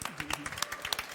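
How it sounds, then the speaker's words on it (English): An audience at a food-producing-cities talk breaks into brief applause, a dense patter of clapping hands at moderate distance. "Welcome, round of applause."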